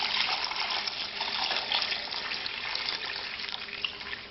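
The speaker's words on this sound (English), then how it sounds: "Now we're going to pour the stock that we just filtered into here." Filtered brown beef stock pours steadily into a bowl set on ice, a continuous close liquid splashing and trickling stream without pause.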